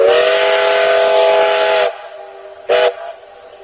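A shrill toy train whistle blows in one long steady tone, stops, then gives a short second toot.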